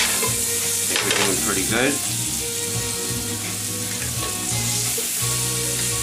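Mozzarella frying in a pan, a steady loud sizzle with scraping and clinking of a utensil, and someone speaking briefly over it.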